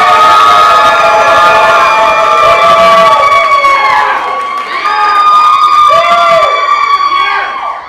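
A loud comedy-competition crowd roars with high-pitched shouts and whoops, the cheering swelling and dipping over several seconds.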